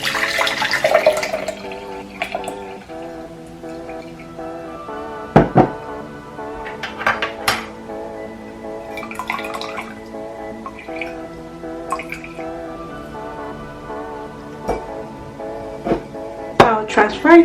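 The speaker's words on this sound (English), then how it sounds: "right now I'm gonna use my strainer" A lemon and oregano mixture poured through a strainer, with trickling drips and light clinks of kitchenware over a few seconds, while a person speaks throughout.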